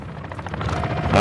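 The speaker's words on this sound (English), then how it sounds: "Oh, chopper." A helicopter in the Call of Duty DMZ video game drones with steady rotor chop, growing louder toward the end, heard briefly with no talk over it.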